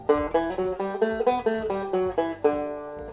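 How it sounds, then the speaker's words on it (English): A plucked guitar runs a six-note scale across two strings, three notes on each, up and back down, notes evenly spaced and clear, played alone with no talking. "do 3-note scales on each, giving us a 6-note scale, up and down."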